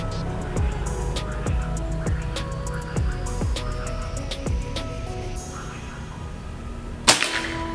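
Bocap 500cc air rifle: a series of quick, sharp snapping reports repeat at a steady pace, followed by a single louder crack near the end over steady background noise.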